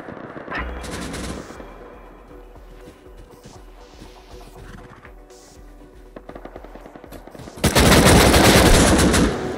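AK rifle fire in the survival game Rust, with rapid automatic bursts at the start and a loud, sustained volley near the end, separated by quieter stretches of scattered distant shots.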